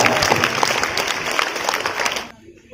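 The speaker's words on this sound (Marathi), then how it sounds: "टाळ्या." Clapping from a group of students at a seventh-grade math quiz competition, a dense burst of applause lasting about two seconds before cutting off abruptly.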